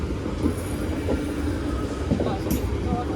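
A train passing through Stafford railway station, with steady loud rumbling, wheel clatter and brief high squeals, close by with no talk over it.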